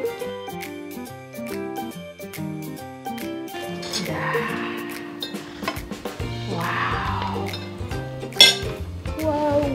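Indomie noodles with their seasoning are stirred in a pan for seblak, with clinking utensil-on-metal knocks and scraping, close and fairly loud, under prominent backing music.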